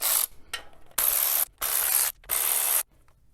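Ratchet loosening valve cover bolts on a Toyota Camry 2.5L 2AR-FE engine, heard as close, loud bursts of rapid clicking, about four runs with brief gaps between them.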